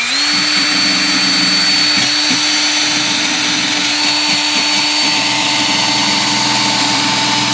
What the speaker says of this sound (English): You can also use a drill With the brush on the end.